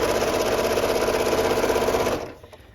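A sewing machine runs in a fast, steady whirring burst while stitching down a small fabric end beside a roped channel, then stops abruptly and leaves faint room noise.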